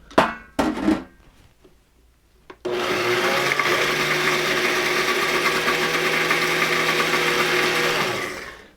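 A food processor pulses walnut pesto with Parmesan: a few brief clattering bursts, then a long steady whirring blend that runs loud and close for several seconds before cutting off.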